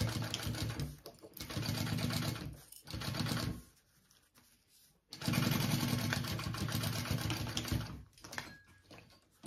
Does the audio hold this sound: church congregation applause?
no